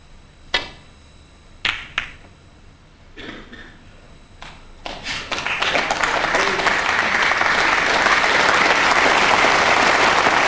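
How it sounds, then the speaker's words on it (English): At a snooker final at the Welsh Open, a few scattered claps ring out one by one before a big arena crowd builds into loud, sustained applause that holds steady to the end. "Generous applause from this big crowd"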